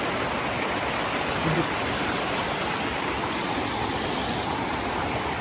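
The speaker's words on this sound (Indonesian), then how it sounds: "kita sudah sampai di air terjun miring" Steady, loud roar of falling water, a dense unbroken rush that fills the whole clip.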